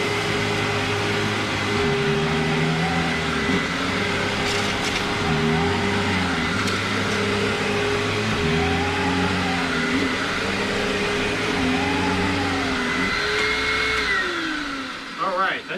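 A Hoover WindTunnel Self Propelled Ultra upright vacuum cleaner runs loud and close, a steady motor roar with a high whine that wavers and shifts in pitch, with a voice talking briefly over it.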